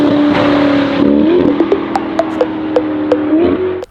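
A 704hp Novitec Ferrari Roma supercar with an aggressive aftermarket exhaust holds a loud, close idle drone, then blips its throttle in rising revs, each followed by sharp crackles and pops, before a final rev cuts off abruptly.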